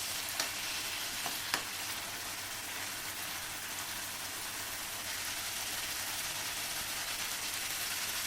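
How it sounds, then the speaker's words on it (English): Diced tomatoes fry in a pan for a spinach moong dal, giving a steady, continuous sizzle with a couple of faint clicks near the start and no voices. "cook tomatoes for 2-3 minutes"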